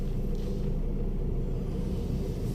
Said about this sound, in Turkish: Arabamız uzun, uzun süredir çalışıyor.